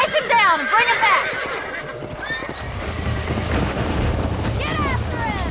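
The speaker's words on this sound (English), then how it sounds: "Hey, the stallion's getting away" A stallion in the video game Red Dead Redemption lets out shrill, wavering whinnies at the start and again near the end, while galloping hooves keep up a steady low rumble throughout.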